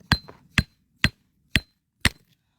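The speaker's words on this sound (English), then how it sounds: "I'm going to try to crack it along this way" A rock hammer of about two pounds strikes a garnet-bearing rock at Garnet Hill, Nevada: five sharp, evenly spaced cracking blows roughly half a second apart, close and clear with no talking.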